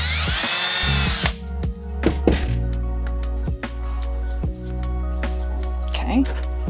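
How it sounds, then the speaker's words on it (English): A power drill bores a short starter hole for a piece of wire on a trellis, giving a brief high whine up close, followed by quieter knocks and handling noises. "you don't need to drill very far, it just needs to be a start for the piece of wire."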